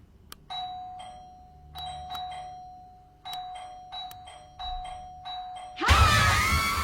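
A doorbell rings inside a house in a horror film, giving a series of clear ding-dong chimes at a steady rhythm, each tone ringing out and fading. A loud, harsh crash breaks in at the end.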